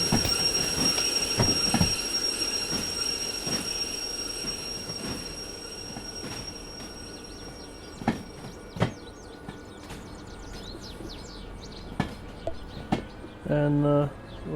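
A heavy freight train in the railway simulator game Derail Valley, with wheels squealing and rail clatter beneath sharp clicks and knocks as it starts rolling, with a brief louder burst near the end.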